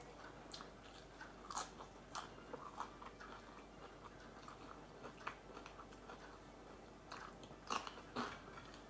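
Someone eats crunchy food close by, with quiet irregular bites and crunches spread through an otherwise hushed indoor space.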